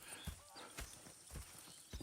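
Horses in Red Dead Redemption 2 make quiet hoof clip-clops and soft snorts at a moderate distance, with a few irregular stamps and shuffles over ambient outdoor noise.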